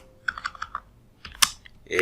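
Short bursts of computer keyboard typing as a Linux terminal command is entered, several quick clicks near the start, then a pause and a few more keystrokes, close and fairly quiet.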